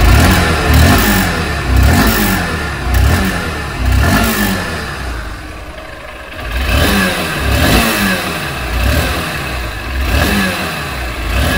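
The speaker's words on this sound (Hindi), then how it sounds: "सबसे पहले इंजन और एग्जॉस्ट के साउंड को सुने।" Honda SP160 motorcycle's 160cc single-cylinder engine and exhaust running alone up close, with repeated throttle blips that rise and fall in regular rev cycles over a steady idle, with no talk.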